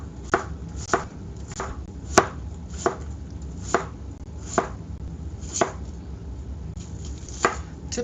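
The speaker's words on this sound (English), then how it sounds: "I'm going to just chop this onion here." Knife chopping an onion on a cutting board while making pizza, about a dozen sharp, evenly spaced thuds at a steady unhurried pace, close and clear over faint room noise.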